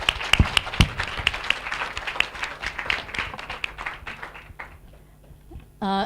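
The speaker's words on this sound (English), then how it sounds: "Another round of applause for our fantastic panel." An audience at a talk on ICT and girls' education applauds a panel with brisk, fairly close clapping that gradually tapers off, ending in a short burst of another sound.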